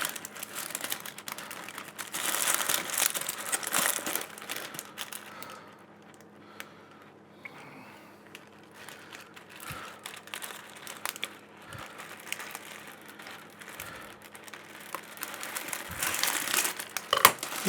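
Paper crinkles and crumples as it is pressed into a quiche tin while making cheese and onion quiche. There are loud bursts of rustling near the start and end, and softer, intermittent handling in between.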